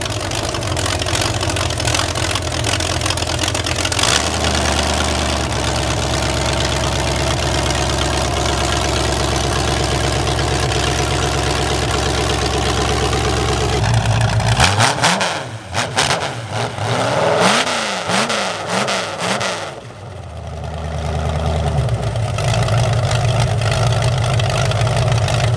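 A Dodge Challenger engine with a sticky throttle idles loudly up close, then breaks into several uneven revs that surge and drop before it settles back to a rough idle.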